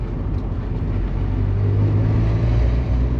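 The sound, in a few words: 1997 Mazda Miata exhaust with slight rattle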